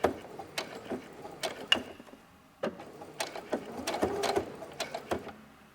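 A sewing machine back stitching a fabric scrunchie, running in a few short, close bursts of rapid mechanical clatter separated by brief pauses.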